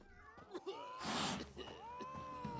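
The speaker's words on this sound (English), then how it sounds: "No, the cat doesn't like me." A cat in the video game The Witcher 3 gives several meows, one long drawn-out wail in the middle, set against quiet game ambience.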